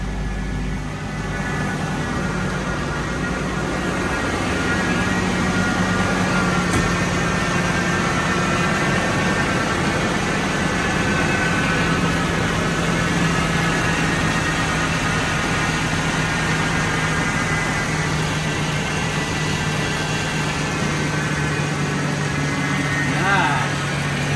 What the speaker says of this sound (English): It's idling real high.